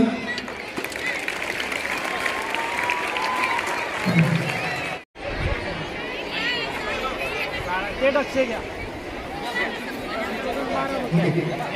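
Students at a school clap and cheer for the school peon, lively crowd applause mixed with chatter and talking, with a brief cut near the middle before the clapping and babble resume.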